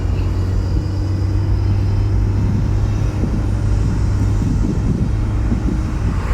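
Steady low rumble and road roar fill a car cabin at slow speed, a constant droning hum with no voices.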